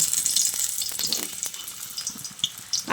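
Parboiled potatoes fry in hot oil with a dense, crackling hiss up close and a few faint clinks as they are moved about; nobody speaks.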